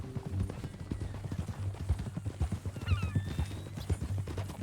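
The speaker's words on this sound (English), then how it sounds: "That a new horse?" Horse hooves clip-clop at a steady walking rhythm in Red Dead Redemption 2, close and even, with birdsong chirping faintly in the background and no talk.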